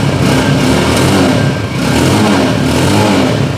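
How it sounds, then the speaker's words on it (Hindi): A Superstar 200cc motorcycle on its original stock exhaust revs steadily nearby, a loud continuous engine drone with a slight dip in the middle before it climbs again. "ये बाइक साइलेंट के ऊपर इसकी जो है ना अपने ओरिजिनल एग्जॉस्ट के साथ बिल्कुल साइलेंट साउंड है"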